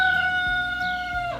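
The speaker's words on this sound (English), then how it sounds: "freaking chickens, man." A rooster crows loudly and close by on a homestead, one long sustained cock-a-doodle-doo call with a strong steady tone that falls off at the end.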